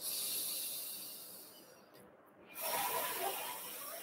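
A breathy blowing exhale, soft and airy, that fades and then swells again into a longer, stronger puff.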